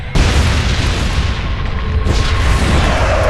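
A large explosion destroys an enemy nest in the space strategy game Sword of the Stars 2, a loud sustained roaring blast with a second surge of rumble partway through, and no voices over it.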